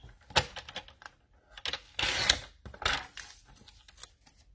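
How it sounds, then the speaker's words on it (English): A paper trimmer cuts cardstock for a handmade card, making a run of irregular clicks and ticks with a longer rasping slide in the middle, close and quiet. "So I'm going to cut this down by 1/4 inch."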